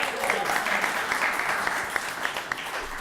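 A small audience at a pitch breakfast applauds after a first pitch, a moderate, steady patter of many hands clapping with a few sharper claps standing out, fairly close and sustained.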